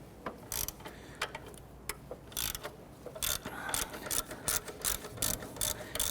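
A ratchet loosens a 12mm bolt on the 2.2L four-cylinder engine of a 1992-1996 Toyota Camry, giving a rapid series of sharp metallic clicks in uneven bursts, close and clear.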